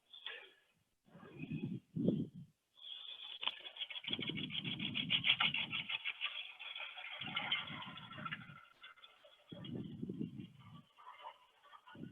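A bowl gouge cuts a wooden flower vase spinning on a lathe, giving a close, rasping scrape in repeated passes of a second or two, separated by short pauses and low rumbling.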